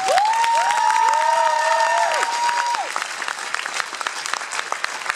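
A crowd at a stage event in Poprad bursts into loud, close applause, with long overlapping whistles sounding over the clapping for the first few seconds before the clapping continues and thins toward the end.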